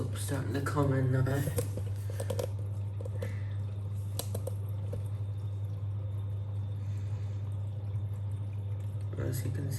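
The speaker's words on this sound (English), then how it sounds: "There's the soap starting to come in now." Water and detergent flowing from the drawer of a Beko WTG Lingerie 30 washing machine into the drum, a continuous close gushing and dripping with a few knocks early on.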